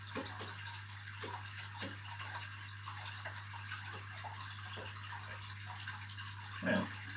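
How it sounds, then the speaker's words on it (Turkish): Water is siphoned out of an aquarium during a water change, a faint continuous trickle with soft gurgles over a steady low electrical hum. "Dipten suyu olabildiğince çekiyoruz çünkü balık dışkıları vesaire dibe çöküyor biliyorsunuz."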